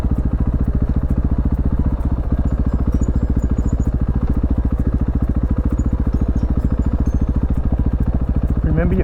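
A motorcycle engine runs steadily and loud with an even throbbing pulse while riding downhill on a loose rocky trail, continuous and close throughout with no clear change in pace.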